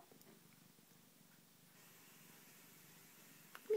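A cat purring steadily and softly up close, a low continuous rumble running throughout, with a brief louder bump at the very end.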